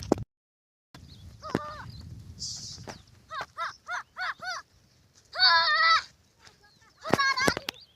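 Goats bleat close by: a single call, then a quick run of short bleats, followed by longer, louder cries.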